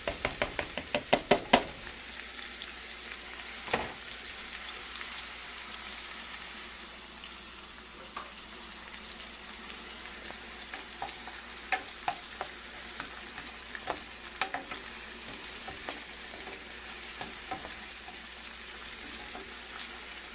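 Habanero peppers frying in a pan for meatless fried rice, with steady loud sizzling throughout and repeated scraping clatters of a utensil stirring, a few sharp knocks near the start.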